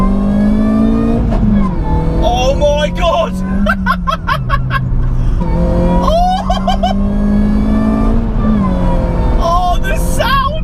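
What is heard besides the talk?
supercharged 216 bhp Ford Focus accelerating in second gear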